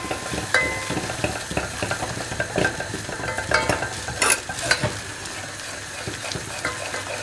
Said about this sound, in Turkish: Şimdi bir yemek kaşığı ve bir buçuk yemek kaşığı unumuzu ilave ettim. Ben bunu karıştıracağım.